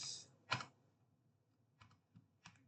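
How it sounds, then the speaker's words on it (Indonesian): A few separate computer keyboard key presses in a Linux Lubuntu terminal text editor, saving a file with a shortcut, Enter and an exit shortcut: one loud click, then sparse fainter taps in a quiet room. "untuk save yaitu Ctrl+O, enter, Ctrl+X"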